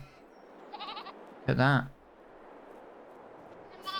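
Sheep in the farming game Farming Simulator 22 bleat in a few short wavering calls, one louder and closer than the rest, while someone talks over the game audio.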